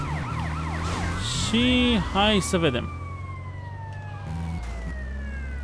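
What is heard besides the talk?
police sirens chasing the player in GTA: Vice City Stories video game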